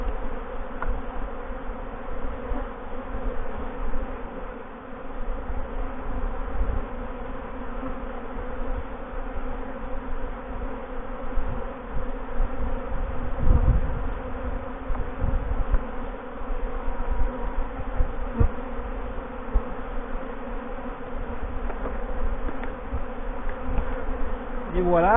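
Honeybees buzzing at a hive entrance in autumn, a continuous droning hum of many insects close by with steady pitch and fluctuating loudness, occasional faint handling noises but no speech.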